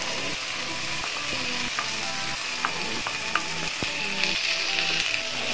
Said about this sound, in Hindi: मटर का पेस्ट डालने के बाद इसे 5 मिनट कम आंच पे भून।